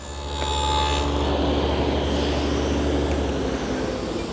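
A 1/4 inch groove is cut along the bottom edge of wooden drawer front, side and back pieces for a plywood bottom, likely on a dado setup. It gives a steady, loud, close rasping whine that holds for about four seconds with no talking.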